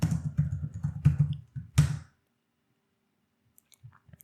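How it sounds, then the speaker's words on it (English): Typing on a computer keyboard: a quick run of close, crisp key clicks for about two seconds, then near silence with a few faint taps. "And please type an address."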